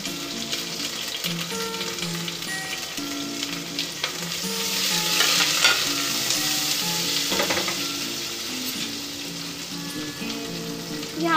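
Chopped onion frying in a hot pan for a home lunch, a dense steady sizzle close by that swells briefly midway, with faint stirring clinks and no talking.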